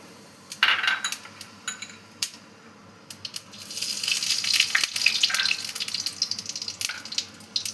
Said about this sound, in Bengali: তেলটা আমার গরম হয়ে গেছে, আমি একটু কালো জিরা দিয়ে দিলাম।